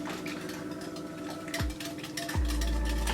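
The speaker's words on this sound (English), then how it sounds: "you're going to want to whisk this thoroughly" Egg mixture with chopped parsley whisked thoroughly in a bowl for a broccoli and Stilton quiche: a quick, continuous scraping whir with a couple of dull knocks toward the end.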